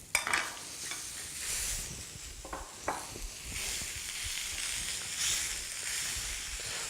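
Taco meat browns in a pan with a steady, moderately quiet sizzle and hiss, broken by a few scraping spoon strokes early on; no voices are heard.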